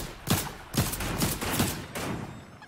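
Sniper rifle shots ring out in Fortnite, four heavy booming cracks spaced roughly half a second apart, each with a short tail and no talk over them.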